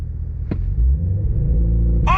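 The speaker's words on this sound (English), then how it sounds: "you're getting pops and bangs and everything out of the exhaust" A 2023 Cadillac Escalade-V performance SUV rumbles loudly up close, its engine revving and swelling to a deep sustained roar through the exhaust, with a sharp crackling pop near the end.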